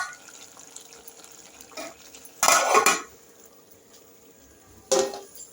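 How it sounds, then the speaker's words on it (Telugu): A lid is set onto a cooking pot in a home kitchen: two short metallic clanks, the first louder and longer, the second brief, against quiet background clatter with no talking. "మూత పెట్టుకుందాం."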